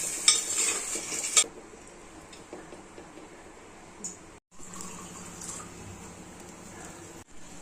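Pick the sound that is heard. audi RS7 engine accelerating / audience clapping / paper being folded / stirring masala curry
stirring masala curry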